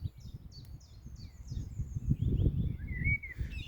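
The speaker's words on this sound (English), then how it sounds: "the beautiful, mellow, fluty song of the blackbird" A blackbird sings mellow, fluty phrases. The song comes from a short distance and stays thin over a low, rumbling background of man-made noise left after something passed overhead.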